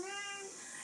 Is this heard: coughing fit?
no